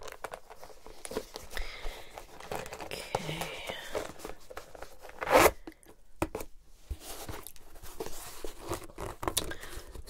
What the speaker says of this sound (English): So we've got a good zip here, good quality, as you can hear.